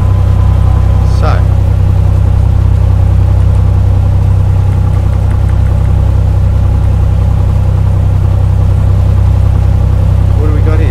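A simulated Cessna 182 Skylane engine runs at full takeoff throttle, 2400 RPM, with flaps at 20 degrees. It gives a loud, steady, droning low rumble for the whole clip, and a voice talks intermittently over it.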